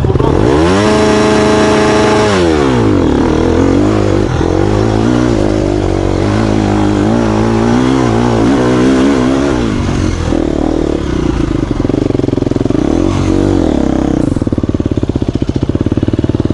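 An enduro motorcycle climbing a hill, engine loud and close, revving up and down repeatedly with rising and falling pitch throughout; brief voice in the background.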